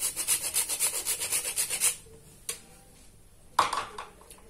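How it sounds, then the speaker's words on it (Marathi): Nutmeg being grated by hand in a home kitchen while making breakfast dishes, heard as a quick run of rhythmic rasping strokes for about two seconds, followed by a couple of isolated clicks and knocks nearby. "आणि सोबतच थोडस जायफळ किसून घालत आहे."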